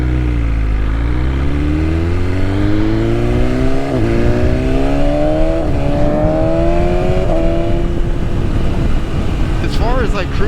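A BMW S1000RR motorcycle engine revs while riding, rising in pitch through repeated upshifts with brief dips at each gear change, loud and steady under wind noise, with a sharp rev blip near the end.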